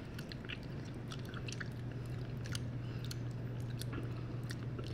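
Someone chews Mexican candy during a taste test, producing soft, wet, squishy mastication sounds that repeat in a close, quiet, irregular rhythm over a faint low hum.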